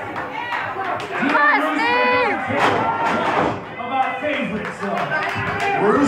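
A wrestling crowd in Iowa City roars and cheers for Steve Manders in loud, surging waves of shouts and chatter, with commentators talking over the noise.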